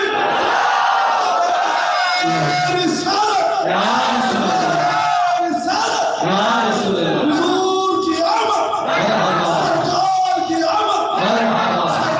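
A large crowd at an Eid Milad un Nabi gathering in Mahuva shouts its response to the takbir call in loud, repeated roaring waves of voices that fill the whole stretch without letup.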